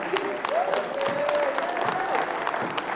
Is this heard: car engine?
no